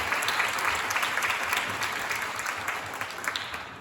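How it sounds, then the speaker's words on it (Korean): An audience at a Korean university department's academic festival applauds three award-winning competition teams, giving a full, continuous round of clapping from many people that tapers slightly in loudness toward the end. "세 팀을 위해 다시 한번 큰 박수 부탁드립니다"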